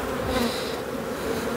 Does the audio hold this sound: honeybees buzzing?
yes